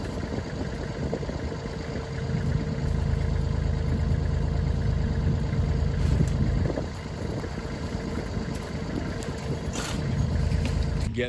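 A tractor engine idles on a farm, a steady low rumble with slight swells, fairly close, with some faint knocks and outdoor noise over it.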